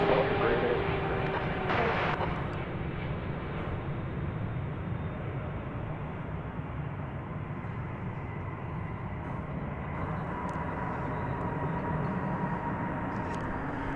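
Qatar Airways Boeing 777 on flight 731 touches down at DFW Airport, a steady loud broadband jet roar holding throughout with a brief brighter burst early on.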